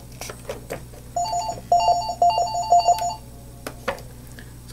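An incoming call rings on a Panasonic TGP office phone system, a close electronic ring pattern of rapid warbling pulses lasting a couple of seconds, with handling clicks around it.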